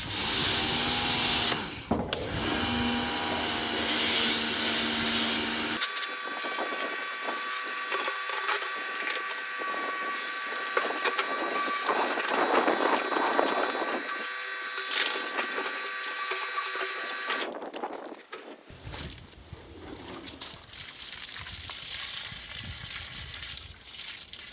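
A pressure washer sprays water inside a Holden HQ-WB fuel tank, a steady hissing rush that runs loud and continuous for most of the stretch, starting and stopping abruptly, with no one talking.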